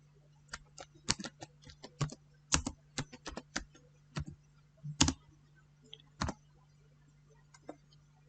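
Computer keyboard keys tapped in short irregular bursts while entering Windows disk commands, crisp close clicks spread across the clip over a steady low hum, with no talking.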